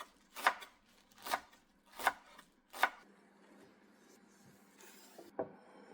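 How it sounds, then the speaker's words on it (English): A knife chops fresh garlic chives on a board in four distinct, evenly spaced strokes, crisp and close, followed by a quieter shuffle and a final light cut. "Chop them finely."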